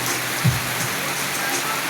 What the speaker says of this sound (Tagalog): Malakas ang dalang ulan.